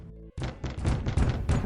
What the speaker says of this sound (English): there's a loud bang at the office door.